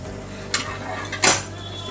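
Chicken being stirred in a cooking pot with a spoon over high flame, giving two or three close metallic scrapes and clinks against a steady low kitchen hum, with no talking.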